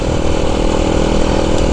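A Honda Cub C90 with a 140cc engine runs at a steady, loud, close idle, a continuous even putter with no change in pace.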